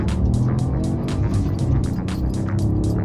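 A turbocharged new car accelerating hard, engine roaring loud and close with repeated surges and whooshes as it pulls through, no voices over it.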